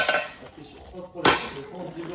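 Newly unpacked cookware, a pot set with its lid and a knife, clattering in two sharp metallic bursts with quieter handling noise between.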